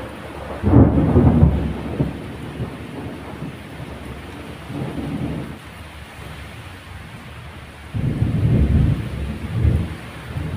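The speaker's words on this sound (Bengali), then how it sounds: "তোমরা মেঘের ভয়ঙ্কর গর্জন শুনতে পাচ্ছ। প্রচুর আওয়াজ হচ্ছে এখানে" Heavy rain on Moushumi Island during a thunderstorm, with two loud rolling bursts of thunder over a steady hiss of rainfall and no voices.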